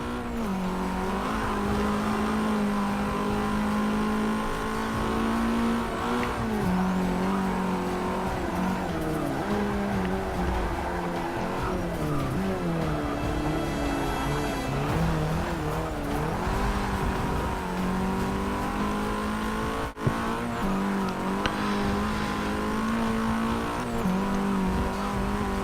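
A boosted race car running 22 psi of boost on a high boost setup drives its fastest lap, shifting into fifth gear. The engine roars loud and steady, rising and falling in pitch through gear changes with faint tire noise.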